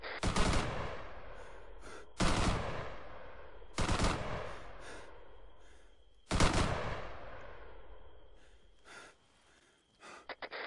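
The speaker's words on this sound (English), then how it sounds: "Do you want me to put suppressive fire on the top of the tower?" Suppressive gunfire aimed at a tower in the ArmA 3 video game, four sharp bursts of rifle fire spaced a couple of seconds apart, each fading into a long echoing tail, with quieter shots near the end.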